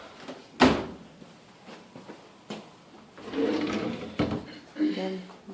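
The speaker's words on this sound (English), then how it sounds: "let's go open up the drawers." Worn, sticky kitchen drawers in a mobile home are pulled open and pushed shut, giving a sharp wooden knock followed by sliding rumbles and further thumps, with someone talking over the clatter.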